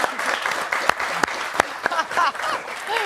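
A studio audience on a French football TV show claps briefly, the applause fading in and out around people talking over it.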